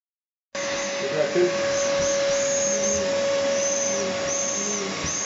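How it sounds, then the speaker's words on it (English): A bee vacuum hums in a steady, loud drone after a brief silence, running during a honey bee removal from a honey-filled comb, with faint buzzing and a voice murmuring beneath. "Bee vac will be coming on later."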